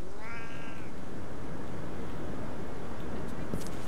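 A cat in the Postal 3 video game lets out one brief meow early on, set against a steady wash of game ambience and noise.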